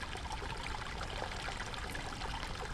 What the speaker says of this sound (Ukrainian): Можна послухати також і мелодію струмка.